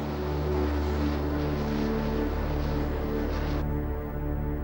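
Harrier jump jet powered by a Rolls-Royce Pegasus engine lifting off vertically, a loud, steady broadband jet roar with a deep humming drone underneath that holds throughout and then dulls slightly near the end.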